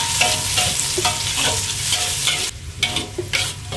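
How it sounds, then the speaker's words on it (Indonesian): Chili stir-fried with dried shrimp and petai in a hot pan, a steady loud sizzle broken by repeated scraping stirs and a brief lull near the end, with no voices. "Kita masukkan cabenya. Kita tumis lagi."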